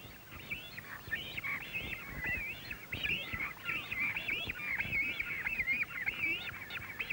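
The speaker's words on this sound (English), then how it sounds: "the young spend all day squawking and panting in the heat, waiting for their parents to return with food" Cormorant chicks at a hot nesting colony give a continuous chorus of harsh, wavering squawks and honking calls, loud and close, with a steady murmur of the colony behind.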